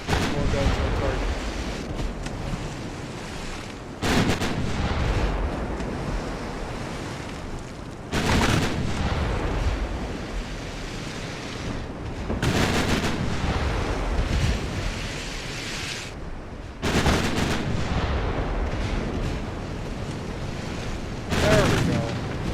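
Warship guns fire armor-piercing shells in a naval battle game, landing as loud broadband booms at roughly four-second intervals over a steady roar of sea and wind, with someone talking throughout.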